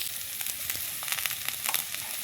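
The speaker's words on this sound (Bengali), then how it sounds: "আদা রসুন বাটাটা একটু ভালো করে কষিয়ে নিই" Ginger-garlic paste sizzling in hot oil with onion and eggplant pieces in a pan while cooking Bengali kochu chingri chochori, a steady close crackling fry with small spatters, then a sudden cutoff at the end.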